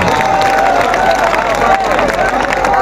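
A mushaira audience bursts into loud, dense applause and cheering, a constant roar of claps and shouts from a large crowd that fills the whole stretch.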